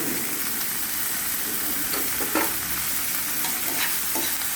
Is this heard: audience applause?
no